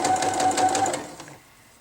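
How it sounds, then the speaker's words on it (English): A sewing machine runs a quick burst of long stitches through harem pants fabric, a loud, rapid mechanical chatter lasting about a second before it stops. "then put it onto the larger stitch, and then you can go ahead and start sewing"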